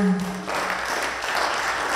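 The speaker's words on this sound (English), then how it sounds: "And a round of applause for Robert Waldner." Audience applause at Romanza Fest 2021, starting after a brief voice and swelling into a steady, full wash of clapping that keeps up to the end.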